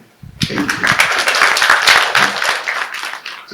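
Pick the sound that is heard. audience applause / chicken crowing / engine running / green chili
audience applause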